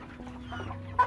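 Free-range village chickens (ayam kampung) cluck softly and repeatedly while mating, close by, ending in a short sharper squawk.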